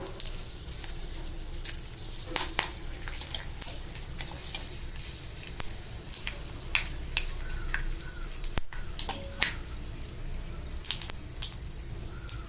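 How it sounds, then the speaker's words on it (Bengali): Whole tempering spices crackle and sizzle in hot oil for a vegetarian soybean and potato curry, a dense steady hiss sprinkled with sharp pops and spits throughout, close and without speech. "ফোড়ন দিয়ে দিলাম।"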